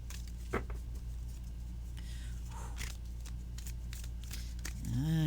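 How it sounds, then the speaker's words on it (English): Tarot cards from a White Numen sacred animal deck being shuffled by hand, giving a steady papery riffle and scattered light flicks close up, with a low hum beneath and a brief rising whir near the end. "I'm keen to shuffle and see if another one comes out"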